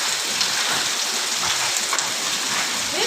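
Hailstones fall during a storm, splashing into water beside a steady, dense patter of heavy rain that continues evenly throughout without voices.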